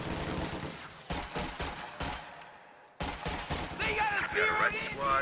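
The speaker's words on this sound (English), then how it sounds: "Rear Echelons vault the fence to get out of the line of fire of that MG42." Game combat from Company of Heroes 2 in which an MG42 machine gun fires at Rear Echelon infantry near a fence. Bursts of gunfire and impacts are loud and close, and they repeat under steady commentary, with a short lull midway.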